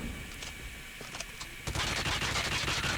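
Hip-fire bursts from the QQ9 gun in Call of Duty: sparse shots at first, then a loud sustained stream of rapid automatic gunfire filling the second half.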